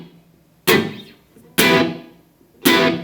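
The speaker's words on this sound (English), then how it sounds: "but if I were to turn the verb all the way down, it would sound like this." Electric guitar through a multi-effects unit with the reverb turned fully down, played as three dry strummed chords, each struck hard and left to ring briefly before the next. Close and fairly loud, with no voices.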